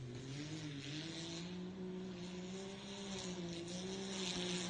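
Ultra4 off-road race car engines drone through the woods, a sustained, fairly faint engine hum with slowly shifting pitch, heard from a distance without talk.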